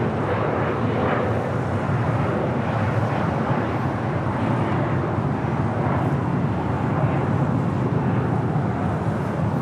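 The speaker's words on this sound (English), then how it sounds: "Should be having the Speedbird, the A350-1000, heading back to London, pushing back from the southwest corner of Tom Bradley" A constant jet engine rumble and whine near LAX while a British Airways Airbus A350-1000 pushes back. The sound is steady and moderately loud throughout, with wind noise on the microphone and no talking.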